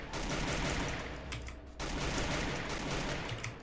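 Rapid bursts of automatic gunfire in the video game Free Fire crackle in dense volleys, pausing briefly before resuming with heavy, continuous shooting.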